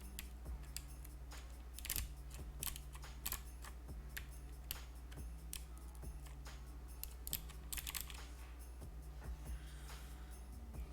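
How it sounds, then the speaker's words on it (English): Keycaps are pressed onto a ph60 mechanical keyboard fitted with Pro World clicky switches, giving scattered sharp clicks and plastic snaps at an irregular pace, quiet and close over a steady low hum. "I'm just trying to be extra careful when mounting these keycaps"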